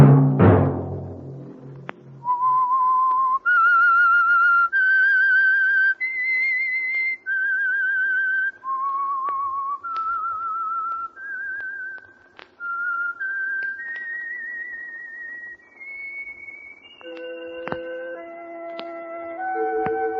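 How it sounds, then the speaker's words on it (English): A clear whistled melody of sustained notes, rising and falling step by step, alone and close, with a low tone beneath. "Let that whistle be your signal"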